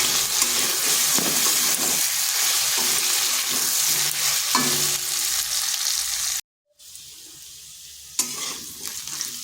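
Gathi kochu taro frying in a pan with turmeric powder, a steady sizzle broken by stirring scrapes, a short dropout, then the frying hiss resuming.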